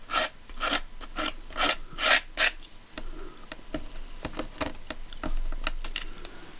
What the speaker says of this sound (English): And scrape off the excess.